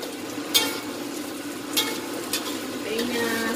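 Tempeh and boiled chicken gizzards fry in a pan with a steady, moderate sizzle, broken by a few soft clinks and scrapes as the pieces are turned over.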